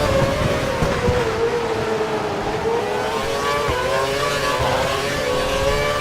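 A Formula 1 car engine at full throttle in the F1 2012 racing game at Melbourne, a loud, steady high-pitched whine that holds and rises slightly as it accelerates down a straight, with no talking over it.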